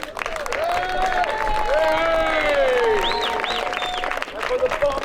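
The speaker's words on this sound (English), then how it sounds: "A very big round of applause for yourselves." An audience at a medieval fort event gives loud applause mixed with cheering and whoops, sustained clapping under overlapping shouting voices for the full stretch.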